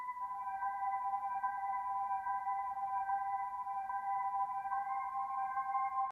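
Soft ambient Omnisphere preset instrument used as a background layer in a trap beat, sounding alone as a steady, sustained tonal drone with a few stable pitched layers, held evenly for several seconds with a brief cutoff at the end.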